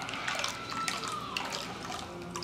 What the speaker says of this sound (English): you can see, again, the green juice coming out